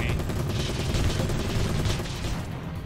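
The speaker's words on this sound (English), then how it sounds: "I'm shooting him now" Sustained gunfire in the Battlezone Combat Commander video game, rapid overlapping shots and booms forming a dense continuous barrage, loud and close, easing slightly at the end.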